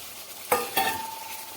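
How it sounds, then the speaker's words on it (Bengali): Already fried potatoes tipped into a ready spice paste in a pan, heard as two quick thuds followed by a rising, close sizzle and stirring. Nobody talks. "এখন আমি আলুটা ঢেলে দেব এই ভেজে রাখা আলুগুলো ঢেলে দেব"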